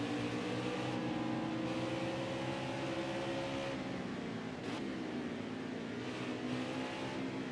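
A race car engine in the NASCAR Heat 5 video game, a steady droning whine with pitch sliding down as it shifts toward second gear, fairly faint and continuous without talk.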